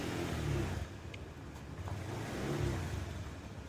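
A Honda Beat scooter-style motorcycle engine runs with a steady, fairly quiet whirring drone that swells slightly, heard nearby in a repair workshop without speech.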